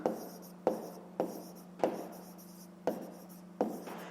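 A pen writes by hand on paper while a math exercise is solved, making seven sharp taps, each followed by a soft scratching stroke, at an uneven rhythm. The sound is close and quiet, over a low steady hum, with no talk.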